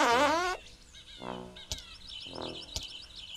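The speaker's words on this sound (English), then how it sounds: "Why do I keep farting?" A comic video game fart blast opens loudly, then softer buzzy toots follow, mixed with sharp clicks and chirpy, bird-like game sounds, all close and without speech.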